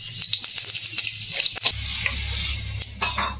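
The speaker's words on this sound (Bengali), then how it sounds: "এই যে একটু জিরে ফোড়ন দিয়ে দিলাম।" Cumin seeds hit hot oil in a wok and crackle, followed by a steady close sizzle with a few sharp pops and clinks, loud and continuous with no talk.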